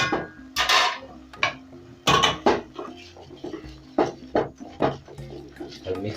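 Washed, drained rice tipped into a pot for pilau, heard as a series of close, sharp clinks and scraping knocks of utensils against the pot, spaced irregularly across a few seconds.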